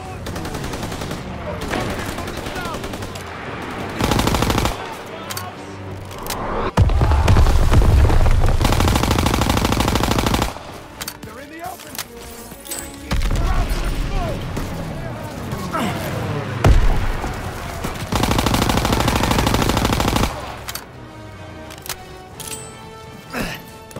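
Call of Duty WWII battle gunfire: loud, sustained bursts of automatic fire alternating with sharp single shots and brief lulls, close and dense throughout, with soldiers shouting orders over it.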